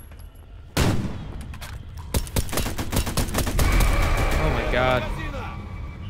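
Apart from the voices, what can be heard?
gunfire in the video game Raid on the Chernobyl NPP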